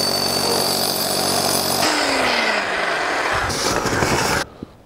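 A power drill bores holes for apartment power supply conduits, including a three-phase outlet line: a loud, steady whining drone with a pitch that slides down partway, shifting into rougher grinding before cutting off abruptly near the end.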